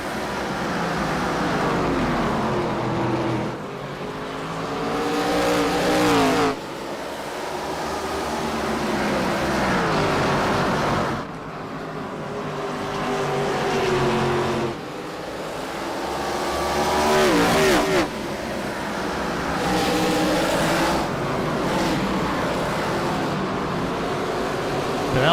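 ARCA stock cars racing at North Wilkesboro, engines roaring loud and continuous with repeated rising and falling revs as cars pass, a commentator talking over the race noise.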